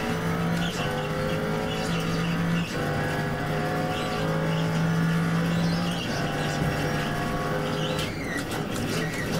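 A race car in the iRacing simulator at Sebring, its engine droning loud and steady with sustained revving and gear changes, with faint tire noise underneath and no talk.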